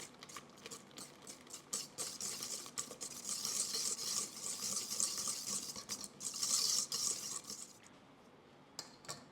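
Cupcake batter ingredients, a room-temperature chocolate mixture, being whisked by hand in a bowl, giving a steady run of quick, soft, close scraping and clicking strokes throughout with no talk.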